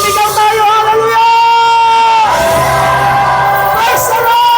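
A crowd at a pastors' church seminar shouts Hallelujah together, loud sustained voices rising in a long group yell, then a second burst of cheering near the end.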